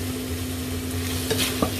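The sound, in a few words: stir-frying choy sum with mushrooms and meat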